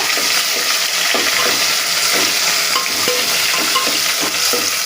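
Onions and green chillies fry loudly in a pan, a dense continuous sizzle with repeated utensil scrapes and stirs at an uneven pace, heard up close with no speech.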